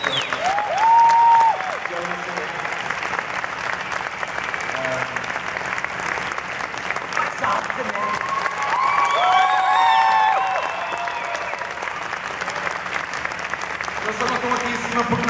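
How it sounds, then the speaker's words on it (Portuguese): An audience at a Comic Con Portugal 2018 panel for the film SOLUM breaks into loud, sustained applause. The clapping swells and stays strong throughout, with scattered cheers and whistles rising above it. "que dessem uma grande, grande salva de palmas a estas 20 pessoas que estão aqui"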